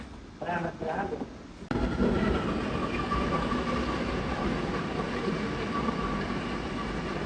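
A metro train rumbles steadily along the tracks from inside the carriage, a constant low roar and hum, after a few seconds of quieter talk at the start.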